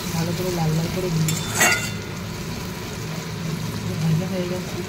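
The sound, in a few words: onions frying in a pan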